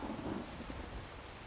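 Steady rain with a low thunder rumble in a stormy Skyrim game landscape, a continuous wet hiss lasting the whole short stretch with no voices over it.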